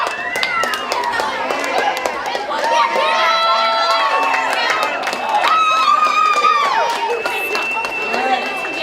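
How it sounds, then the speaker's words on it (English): A crowd at a student cooking team presentation cheers and applauds, with whoops, shouts and excited voices over scattered claps, loud and sustained throughout. "give everybody a round of applause when they come up here, and you can yell and hoot and holler"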